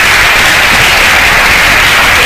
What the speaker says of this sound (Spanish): Le damos una ofrenda de aplauso